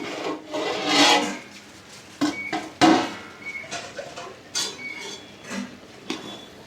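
A pot lid lifted off a pan of okra puli curry, then a spoon scraping and stirring the cooked vegetables in irregular bursts of clatter and rubbing, close up, with no talk.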